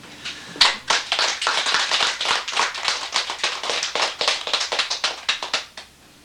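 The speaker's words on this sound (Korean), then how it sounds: "박수쳐요" A small audience at a Buddhist sutra lecture claps, with distinct, crisp individual hand claps in an uneven, fairly quick rhythm that stops at the end.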